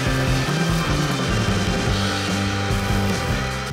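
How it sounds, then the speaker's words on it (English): A drill press bores holes through pallet boards held in a jig, with a steady loud motor whine and grinding hum running continuously throughout. "I'm just gonna put it here, drill a hole, move it over, drill it"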